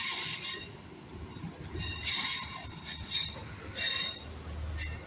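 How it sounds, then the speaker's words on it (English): A train rolls past with sharp high wheel squeal rising in bursts over a steady low rumble, loud and close throughout. "Get to see the trains from this."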